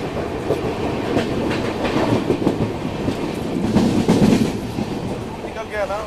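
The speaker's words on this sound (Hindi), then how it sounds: "हम अभी कमाख्या रेलवे स्टेशन को स्किप कर रहे हैं, वो भी तेज़ रफ्तार" Dibrugarh Rajdhani Express running at high speed past Kamakhya station, with steady rhythmic clickety-clack of wheels over rail joints and a continuous rumbling roar heard from aboard the train.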